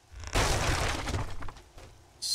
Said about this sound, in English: Let's break those for glass.